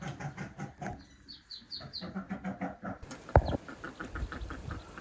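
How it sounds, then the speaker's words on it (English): Soft, repeated clucking from a mother bird with chicks moving about nearby by a lake in Finland, with short rhythmic calls and a brief sharp knock partway through. "Right now I'm hearing it walk around and cluck."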